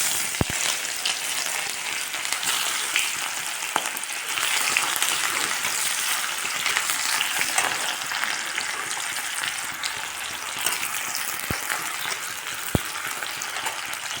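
Cumin seeds and onion frying in hot oil, a dense continuous sizzle held close throughout, broken by a few sharp clicks and pops, with no voices.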